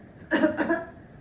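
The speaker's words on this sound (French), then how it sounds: "Toussez encore." Two quick, close coughs in succession, fairly loud, followed by quiet.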